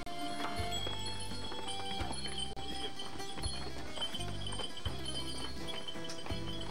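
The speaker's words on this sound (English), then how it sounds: "you've got to deal with the donkeys along the way. And they come steaming by you." Donkeys clip-clopping past on a Santorini village path, a steady stream of hoof strikes with rhythmic clatter close by, with faint metallic jingling and background bustle.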